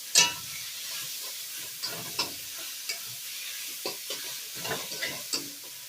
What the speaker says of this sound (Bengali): আর এখানে গ্রেট করা পেঁয়াজ দিয়ে দেব, টমেটো। এই মশলার সঙ্গে ভালো করে কষিয়ে নেব।